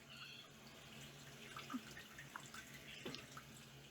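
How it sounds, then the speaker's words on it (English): Water runs steadily inside a toilet tank during flapper valve and float repair, a soft continuous rushing with a few faint drips and splashes, no voices. "I'm going to turn on the water again"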